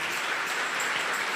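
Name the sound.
church congregation applause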